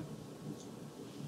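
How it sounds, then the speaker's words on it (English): Thunder outside rolls as a faint, steady, low rumble, with no talk over it. "Do you guys hear that thunder out there?"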